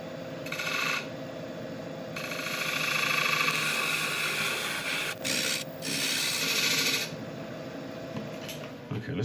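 Lines drawn on a wooden bowl blank are rubbed off with steady, close abrasive scrubbing that rises and falls in strokes for several seconds, with a loud machine hum running underneath.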